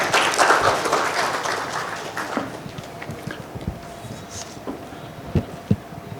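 Applause at a business summit as a speaker is called to the dais. The clapping is loud at first, then thins within a few seconds into scattered, sparse claps and a few thuds.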